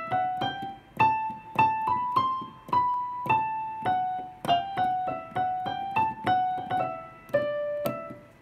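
The right-hand melody of a piece plays on a piano as a slow sequence of single struck notes. Each note decays before the next one starts, and the notes sound close and clear with no talking.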